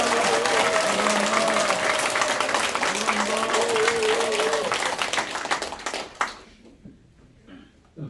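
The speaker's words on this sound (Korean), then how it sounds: "박수 부탁드립니다." Audience applause at a senior citizens' association general meeting in Jongno: dense, steady clapping from a crowd, near and loud, lasting about six seconds before fading into a quiet room.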